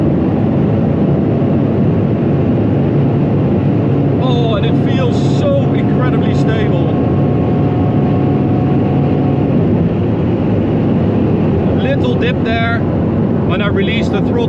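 Ferrari at high speed on the Autobahn, a loud constant engine roar and wind rush inside the cabin, with people talking over it at intervals.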